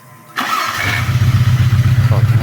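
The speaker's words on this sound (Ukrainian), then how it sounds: "Тут, виходить, ключове зажигання, кнопка старт" The engine of a homemade loader built on VAZ parts cranks and catches after a key turn and start button press, then settles into a loud, close, rhythmic idle putter.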